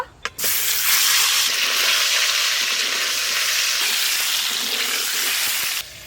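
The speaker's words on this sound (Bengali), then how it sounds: "তেল গরম হয়ে গেছে, ডিমগুলো ভেজে নেব।" Eggs fry in hot oil in a wok-style pan, a loud, steady, crackling sizzle that bursts in after a brief knock and holds evenly for about five seconds before cutting back.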